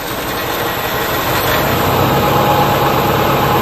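A Subaru engine runs in drive with the brake released and the wheels spinning slowly, a steady loud mechanical hum and whir throughout with no talk.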